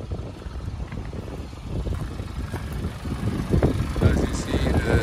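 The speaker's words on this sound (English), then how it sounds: "the engine is running smooth and quiet" A 2019 Hyundai Tucson SE AWD with 35k miles idles with its hood open, a low steady engine rumble heard up close and slowly growing louder, with no talk over it.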